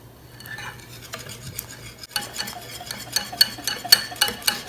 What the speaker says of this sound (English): Mix it well so that we do not have any lumps in it.